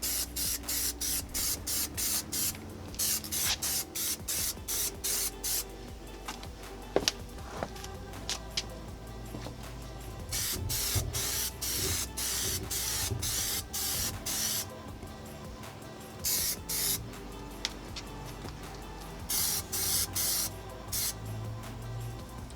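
An aerosol spray can lays down a light, even coat in repeated short hissing bursts, close and fairly loud, with brief pauses between passes and no voices.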